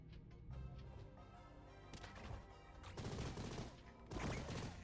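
Gunfire in the video game Mighty Goose, bursts of rapid shots and crashes over game music, growing denser and louder toward the end.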